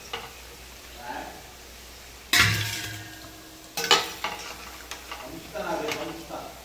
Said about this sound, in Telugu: ఇలా గోల్డ్ కలర్ వచ్చిన దాకా వేయించుకోవాలండి